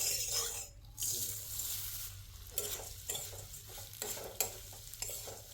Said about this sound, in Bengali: চিরাটা হালকা ভেজে নিব